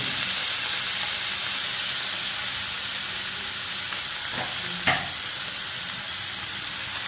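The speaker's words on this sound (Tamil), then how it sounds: "வெங்காயத்தை சேர்த்து நல்லா வதக்கிடணும்." Onions and green chillies sautéing in a hot pan for chicken kothu dosa, giving a steady, loud sizzle and hiss with a brief stir or scrape partway through.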